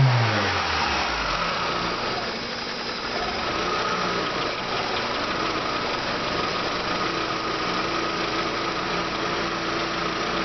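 A 2001 Mitsubishi Galant sits idling in neutral after a transmission fluid change, a steady mid-pitched engine drone with a faint low rumble, close and unchanging, with no one talking.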